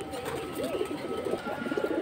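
Pigeons coo softly at a Bengali bird market stall, with fancy breeds such as silver and purple-necked birds kept in pairs. The low, rolling coos repeat steadily over a hazy background noise.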